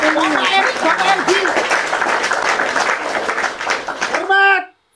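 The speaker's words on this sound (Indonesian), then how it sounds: "Tepuk tangan." People clap together, a continuous patter of applause running under loud overlapping voices and talk, ending abruptly.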